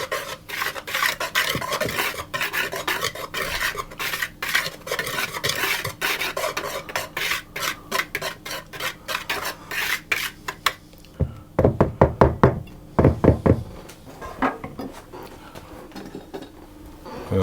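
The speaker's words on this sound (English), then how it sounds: "I'm simply going to stir those ingredients around to get them combined." A spoon scrapes and stirs sifted cocoa powder with dry chocolate shortbread ingredients in a bowl, a steady gritty rasping that turns into sharper knocks and clinks against the bowl near the end.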